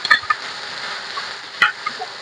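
A spatula or spoon stirs a hotdog mixture frying with onions in a pan: a soft sizzle runs underneath, with a few sharp scraping clicks near the start and again toward the end.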